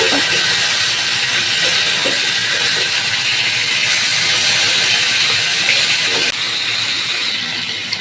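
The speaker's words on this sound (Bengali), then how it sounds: "এদিকে মাছগুলো সাথে ভেজে নিচ্ছি" Fish frying in a hot pan as the pieces are turned over, a loud, steady, dense sizzle that continues without break throughout, with faint scraping clicks under it.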